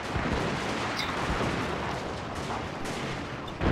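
Cannon fire during a siege battle in Shogun 2: Fall of the Samurai, a dense, continuous roar of booming shots and gunfire layered throughout, loud with no talking.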